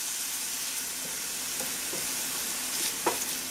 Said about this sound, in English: we're going to saute this till it's soft